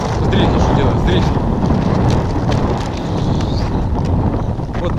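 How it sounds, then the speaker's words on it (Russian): Strong wind roars and buffets the microphone continuously beside a frozen bay in late March, a dense rumbling rush with no pauses, loud and close throughout. "Вот такой ветер."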